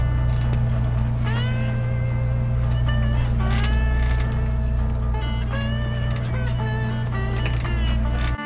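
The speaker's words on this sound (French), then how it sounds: "On est au moteur." A sailboat motors under engine power on a calm, windless sea, with a steady low drone running throughout and creaking, squeaking sounds of rigging or fittings layered on top.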